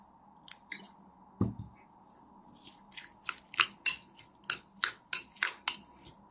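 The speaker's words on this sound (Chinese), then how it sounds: "搅拌均匀。" Beef hoof jelly sauce stirred with chili oil and vinegar: close, wet scraping strokes against a bowl, a few scattered at first, then a steady rhythmic run of about ten quick stirs.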